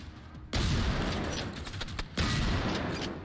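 Gunfire in the open-world shooter Generation Zero, two loud, close barrages of crackling shots and booms, the first lasting over a second and a half and the second starting after a brief dip.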